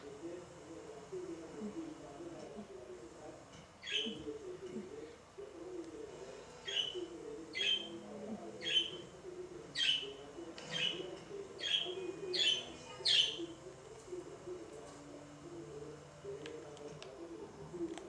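A bird chirps in a quick series of short, bright calls, about eight in a row, over a busy low background with faint voices.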